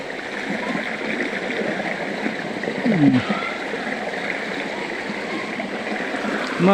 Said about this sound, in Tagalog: lumakas na yung agos, oh